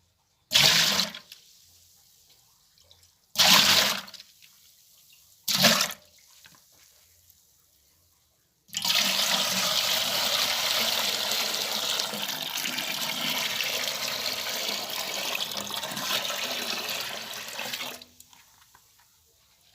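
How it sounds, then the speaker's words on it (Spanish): Clear water poured off settled dough: after three short splashes, a steady continuous pour of water runs for about nine seconds, close and fairly loud, then stops. "Ahora pura agüita le voy a sacar la que está clara, esta es la agüita."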